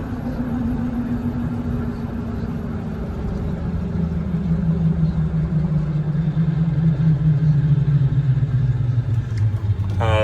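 A Ford F550 4x4 bucket truck with a 6.7 Powerstroke turbo diesel drives along, its steady low rumble climbing gradually in pitch as it accelerates, close and continuous.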